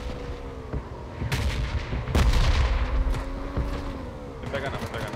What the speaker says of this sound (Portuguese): Bem no meio do bombardeio